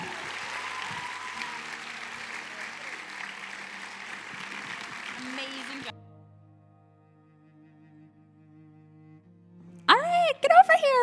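An audience applauds candidates at a coronation ceremony, steady indoor clapping for about six seconds that stops abruptly, followed by quiet and then brief voices.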